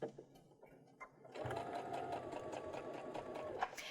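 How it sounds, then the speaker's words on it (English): A sewing machine fitted with a Baby Lock invisible zipper foot starts slow, stitching an invisible zipper; after a quiet start, a steady close mechanical whir runs continuously, with no talking. "And now I'm just going to begin slowly stitching."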